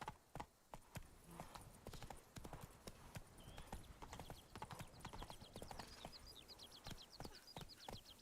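Roach the horse galloping in The Witcher 3: rapid rhythmic clip-clop of hooves over a quiet outdoor ambience with faint bird chirps, steady and moderately close.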